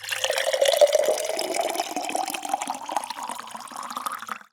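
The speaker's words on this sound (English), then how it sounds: "That refreshing sound is water being poured," Cool water is poured into a vessel in a kitchen, a close, continuous splashing stream whose pitch climbs steadily as it fills, then stops abruptly at the end.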